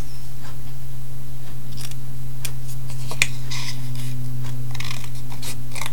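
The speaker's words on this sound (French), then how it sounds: "Une paire de ciseaux," Intermittent crisp snips and rasping cuts of scissors cutting paper along drawn lines, fairly close, over a steady low electrical hum, with no talking.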